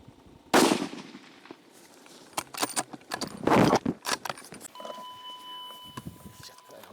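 Two sharp, loud rifle shots crack out about three seconds apart during a hunt in South Africa. Each is followed by a short decay, and lighter clicks and knocks come in between.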